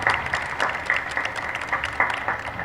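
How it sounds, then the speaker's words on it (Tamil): Audience applause at a political speech rally, steady sustained clapping from a crowd, moderately loud and continuous without pause. "நல்ல இடைவிடாது கைத்தட்டு கொடுங்க"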